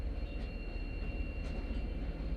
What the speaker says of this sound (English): the train's coming, so I'm pausing.